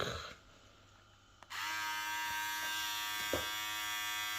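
A brief click, then a VGR V332 electric hair trimmer buzzes steadily and close, its motor hum holding constant with a couple of faint taps.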